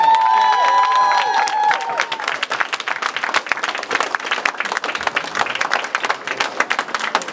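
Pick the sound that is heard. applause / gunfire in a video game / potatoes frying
applause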